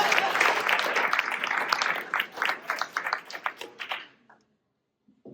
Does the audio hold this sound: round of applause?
yes